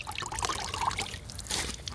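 Water gurgles and trickles as a homemade sump pump sucks it down, a steady, close pouring and dribbling sound that continues for about two seconds.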